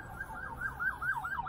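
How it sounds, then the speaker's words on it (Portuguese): An ambulance siren wails from the street, its rising and falling tone steady and moderately loud over low traffic rumble, with no voices. "Ah, era ambulância"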